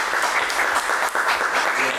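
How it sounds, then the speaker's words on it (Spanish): A live audience gives a sustained round of welcoming applause for a newly introduced guest at a talk, dense steady clapping throughout with a brief dip near the middle. "démosles un aplausito de bienvenida"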